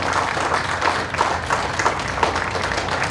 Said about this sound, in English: if you wouldn't mind joining me in a round of applause to all of our volunteers